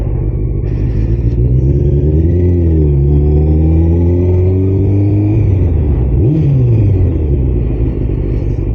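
A motorcycle engine revs while riding, its pitch climbing through gears and dropping between shifts, loud and steady close up with constant wind and road rumble underneath.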